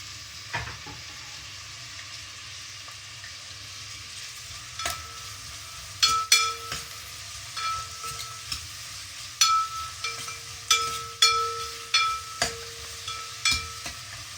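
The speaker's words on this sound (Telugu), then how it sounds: "ఇవి బాగా గోల్డెన్ బ్రౌన్ వచ్చేంత వరకు ఫ్రై చేసుకోవాలి" Sliced onions and green chillies frying in a pan for a tomato cashew curry, a soft sizzle punctuated by sharp spatula clinks and scrapes that come in a quick series, close with no talk.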